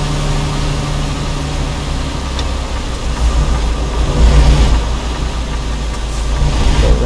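Steady low rumble of a 2021 SCS Freightliner Cascadia truck engine idling and running in American Truck Simulator, continuous and fairly loud with slight swells, no talk over it.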